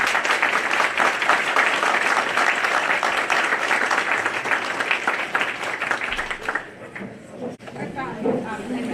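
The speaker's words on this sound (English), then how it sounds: "let's give a round of applause for our panelists." Audience applause after a panel discussion on groundwater rise and subsurface flooding, a dense sustained clapping from a room of people that thins and tapers off near the end.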